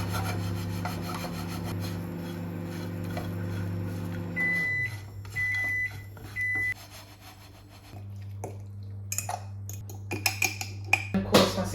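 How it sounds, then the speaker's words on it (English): Microwave oven heating fruit in a kitchen, a steady low hum running for several seconds with short electronic beeps, then the hum stopping and restarting among soft rubbing and handling noises; no speech. "So just put these in the microwave and they'll become nice and, I guess, juicy."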